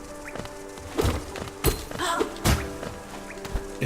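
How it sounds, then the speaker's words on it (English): Explosions in the Hollow Knight video game, several sharp thumping bursts at irregular intervals over busy game sounds. "those explosions do 2 damage"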